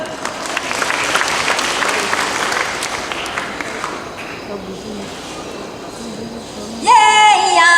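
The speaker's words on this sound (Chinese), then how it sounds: "掌声。" A church congregation claps after a choir performance at a hymn showcase service: dense, loud applause that thins and fades after about four seconds, then music starts up.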